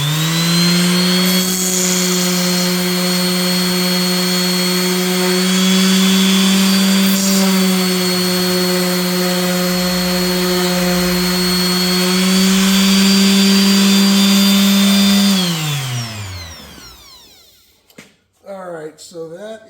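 A power drill with a 21/64 bit bores steadily into a bracket for a 1961 FL Harley Panhead front safety bar, a loud constant motor whine that holds for about fifteen seconds before spinning down, followed by brief clatter.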